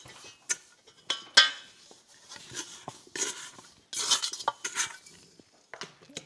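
A pliable pastry scraper scrapes down the sides of a bowl of brioche burger bun dough, giving a close series of irregular scraping strokes with light clicks and knocks against the bowl.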